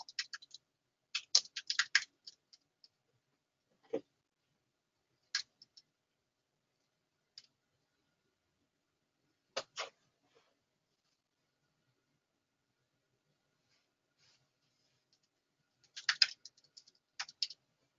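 Computer keyboard typing a terminal command, heard as short bursts of quick clicking keystrokes separated by long silences, close and quiet with no talking.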